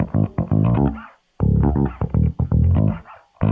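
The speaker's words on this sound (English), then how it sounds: "Doing the typical thing of just turning everything up, but a bit of distortion, a little bit of sub there" Distorted bass from a Kontakt sampled bass instrument, all controls turned up with distortion and added sub, playing a run of loud, gritty notes in two phrases separated by a brief gap.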